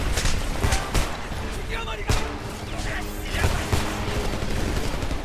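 Gunfire in the video game Homefront, repeated sharp bursts and explosive cracks amid battle noise, with someone talking over the shooting.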